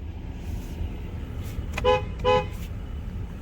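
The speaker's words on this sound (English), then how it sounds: "Horn sounds good." Two short car horn honks in quick succession from a 2020 Mercedes-Benz GLS450 mild hybrid, over a low rumbling background of the idling vehicle.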